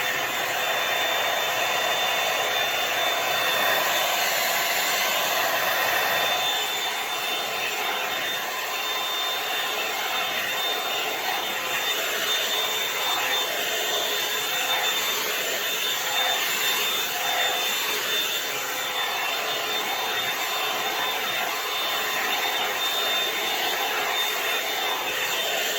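A Revlon One-Step hair dryer and styler blows continuously, with a steady whooshing airflow and a thin high whine. It is close and constant throughout, with no voices.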